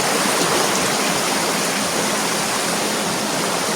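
The Jereweh river flows upstream in a steady, dense rush of water, close and constant throughout, with no voices.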